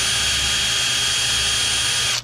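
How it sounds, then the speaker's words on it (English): Power drill pre-drilling shallow pilot holes for 3/4 inch screws, running steadily at full speed with a loud, constant whine close by, then cutting off abruptly at the end. "And then I'm going to pre-drill right here."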